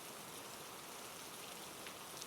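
Steady rain pours on a surface in a continuous, even hiss of dense droplets, with no voices.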